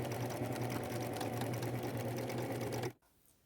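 A sewing machine runs fast and steady, close by, stitching the ends of a ruffle together on a white shirt, then stops abruptly, leaving near silence.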